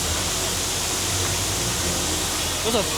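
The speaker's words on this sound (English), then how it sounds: "You guys want to hear some waterfalls?" Steady broadband rush of fountain water splashing down like a waterfall at Kings Dominion amusement park, continuous and close, with a faint voice briefly rising near the end.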